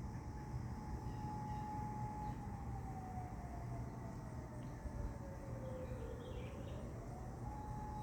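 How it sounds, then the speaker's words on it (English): A distant Federal Signal Modulator 1004 fire siren wails outdoors during a severe thunderstorm in southeastern Pennsylvania, its tone holding steady and then sliding down and back up, faint under a broad rumble of background noise. "There's the modulator siren going off."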